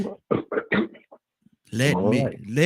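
A person clears their throat with a few short guttural rasps, then talking follows.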